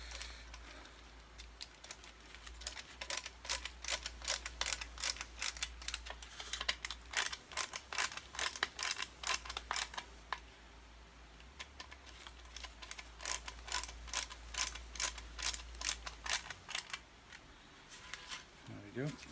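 Small clicks and ratchets of a screwdriver at work while a Kirby Sentria vacuum is put back together, coming in rapid close bursts of hard ticks with short pauses between them.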